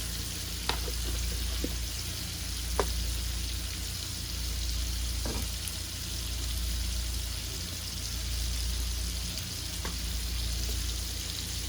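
Baby potatoes sizzle steadily in a hot pan, a continuous close frying hiss with a few soft clicks and pops scattered throughout and no talking.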